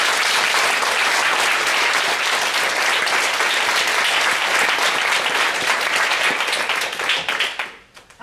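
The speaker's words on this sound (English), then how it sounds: "Can we give them a massive round of applause?" A meeting audience gives sustained, loud applause for the named people, dense clapping holding steady for several seconds before fading out at the end.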